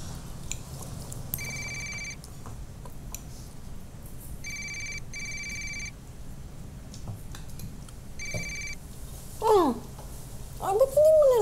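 A telephone rings unanswered indoors, sounding in several repeated bursts of electronic trilling at a steady pace, while people talk around it in the same room.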